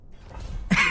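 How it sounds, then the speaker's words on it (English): A single short cough from a man, close and fairly loud, comes after a quiet breath. "excuse the coughing"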